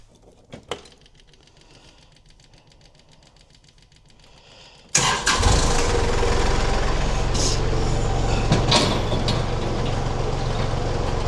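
A tractor engine starts up and runs loud and steady while a Baumalight forestry mulcher is being mounted, after a few seconds of quiet with a couple of faint knocks.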